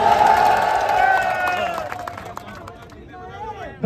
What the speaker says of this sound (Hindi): एक धन्यवाद ताली